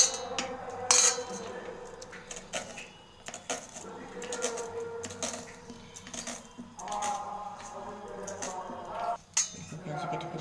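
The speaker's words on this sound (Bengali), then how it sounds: "দেখুন বন্ধুরা, পেঁয়াজটা আমি কেটে ফেলছি।" A knife chops an onion on a board for onion pakoda, giving a run of quick, close clicks and taps in uneven rhythm while a person talks over the work.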